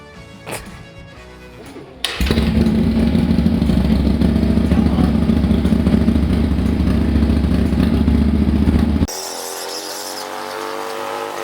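A motorcycle engine with a manual choke fires up after a few clattering attempts and settles into a loud, steady, close-up running drone, then drops abruptly to a lighter, smoother idle near the end.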